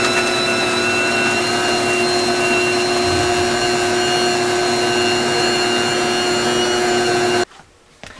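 A Bosch Universal Plus stand mixer runs with its cover on, giving a loud, steady motor whine and hum that continues unbroken, then cuts off abruptly near the end, leaving near silence.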